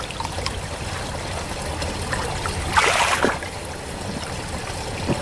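A stream in the Appalachian woods flows and trickles steadily and close by, with a brief splashier surge midway and no voices.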